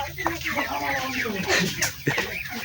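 Hens cluck and murmur in a busy flock on a poultry farm, close and steady, with a few sharper squawks breaking through over the constant low chatter.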